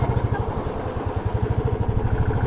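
Motorcycle on a mountain road trip from Sangla to Nako, engine idling with a steady, even low thump, close and moderately loud, no talk.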